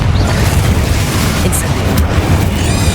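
A sustained, loud, roaring blast from a Confringo spell in Hogwarts Legacy, dense, rumbling and continuous for about three seconds, with faint crackles near the end and no talk.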